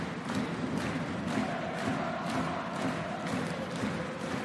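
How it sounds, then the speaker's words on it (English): An ice hockey arena crowd at a Pinguins Bremerhaven versus Växjö Lakers match keeps up a steady, enthusiastic roar, with rhythmic thumps and shouts rising and falling over the whole stretch. "Crowd still really enthusiastic, enjoying this Penguins performance right now."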